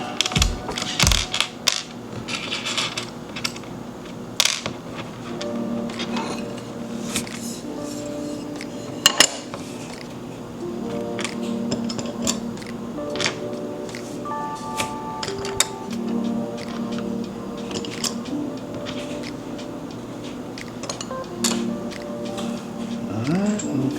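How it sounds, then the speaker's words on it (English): Small metal parts clink and clatter as the back plate goes onto a JHS NOTaKLON guitar pedal, with repeated light taps, scrapes and clicks close up over a quiet background. "Now I'm gonna put the back plate on."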